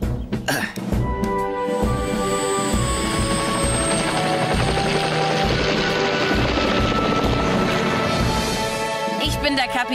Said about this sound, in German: Vielleicht sollten wir Tom Thomas und seinen Hubschrauber zu Hilfe holen, Sir.